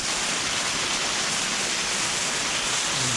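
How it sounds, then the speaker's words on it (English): A waterfall in the countryside near Guadalupe, Colombia, roaring as a constant broad rush of falling water, close and steady from start to finish with no voices. "So here's another waterfall that I didn't know about that Sal just showed me"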